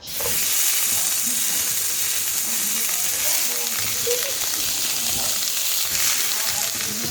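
Loud, steady sizzling of water hitting hot butter in a pan with beans, a constant crackling hiss throughout, with faint speech underneath.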